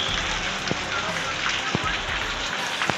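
Heavy rain, with light hail also falling, drums in a dense steady wash, broken by a few sharp, close impacts.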